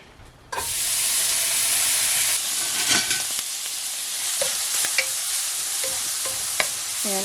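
Bacon pieces drop into a hot skillet and burst into a steady, loud sizzle that holds for several seconds, with occasional sharp pops and spatters breaking through the continuous frying hiss.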